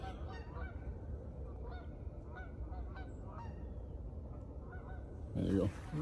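Geese honk repeatedly from high overhead as a flock flies past on a cold farm, the calls distant and layered over steady wind-like background noise.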